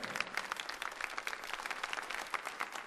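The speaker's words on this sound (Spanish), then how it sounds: "¿Les podemos dar un aplauso a los pastores de la casa, por favor?" At a Bible conference, a congregation gives the pastors a round of applause: soft, scattered hand claps heard from a distance, with a crisp, uneven rhythm lasting a few seconds.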